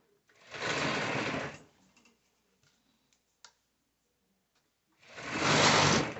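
A serger runs along the edge of dancewear elastic in two short close bursts, each about a second or so long, separated by a quiet gap holding a few faint clicks.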